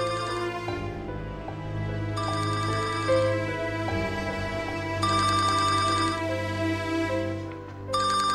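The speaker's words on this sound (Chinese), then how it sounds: "我接电话，我有需要我替你接。" A telephone plays a melodic electronic ringtone in a domestic drama scene. The repeating tune sounds steadily and fairly loud with no voices over it.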